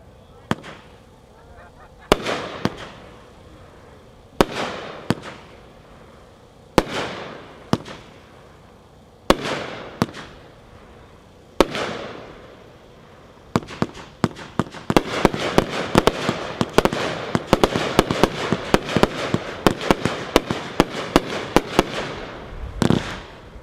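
A Red Rover 30-shot firework cake launches with sharp thumping shots, widely spaced at first and then a dense rapid barrage of crackles and bangs, heard outdoors at a fireworks demo.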